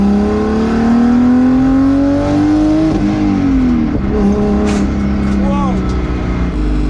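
An 800 whp single-turbo BMW N54 335i engine roars hard under acceleration, pitch rising then dipping at a shift and climbing again, loud and close, with a person briefly exclaiming over it.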